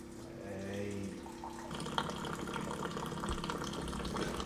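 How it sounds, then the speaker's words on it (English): A hot water dispenser runs a steady stream into a cup for tea, a continuous filling rush with a slight rising pitch, close and moderately loud, with faint background voices. "Tea, press and hold for the water."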